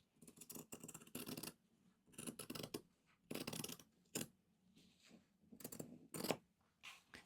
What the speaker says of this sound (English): So I will just finish cutting this.